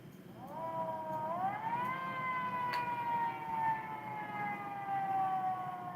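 A simulated civil defense siren from an imported software preset modeled on a local siren rises in pitch, then holds a steady, slowly falling wail with layered harmonics, loud and continuous over a low background rumble.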